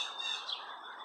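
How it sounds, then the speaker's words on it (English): Song sparrows chirping in a flock around a backyard hedge and a neighbor's garage roof, a dense layer of overlapping high tweets and calls that continues steadily through the whole moment. "Can you hear all the chirping?"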